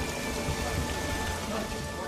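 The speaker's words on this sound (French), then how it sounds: "L'orage était très violent, les éclairs fusaient" Dense, steady rain hammering down during a violent thunderstorm, a continuous close wash of drops with a low rumble underneath, with a voice talking over it.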